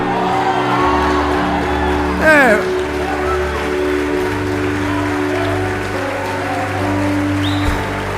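Audience in a church service applauding a preacher, a broad sustained wash of clapping with some whoops and shouts, crowd noise steady throughout under a sermon setting.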